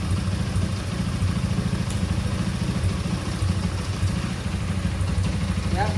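A motorcycle engine idles with a steady, low, rhythmic putter, close and constant, with no speech.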